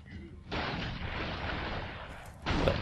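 Grenade explosions in the side-scrolling action game Broforce: a loud, broad blast erupts and sustains for about two seconds, followed by a second burst near the end.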